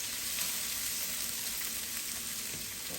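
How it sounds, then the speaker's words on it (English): Peppers, onions and carrots sizzle in a hot pan, a steady close hiss and crackle that holds level throughout with no voices. "Already sizzling."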